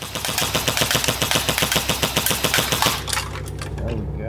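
An Umarex AER16 electric BB rifle fires on full auto, a close, rapid, even burst of about twenty sharp snaps lasting three seconds, then stopping and leaving motor hum and rattling.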